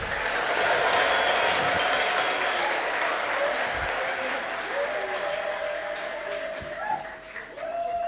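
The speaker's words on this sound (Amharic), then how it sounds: "እልልታ ጭብጨባ ለኢየሱስ ይሁን።" A church congregation breaks into sustained applause mixed with high ululation, a dense wash of clapping and trilling voices that fades slightly toward the end.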